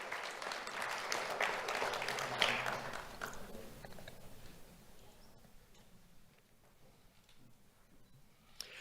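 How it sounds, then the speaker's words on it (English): At a community awards ceremony, an audience claps for an award winner. The clapping is moderate at first, then thins and fades to scattered, faint claps over several seconds. "Let's have a round of applause for Rosa Hernandez Ramos."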